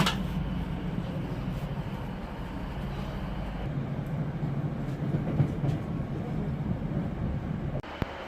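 A night train rumbles along the rails near Manchester, a steady low roar heard from inside the carriage with a faint rattle throughout and no voices.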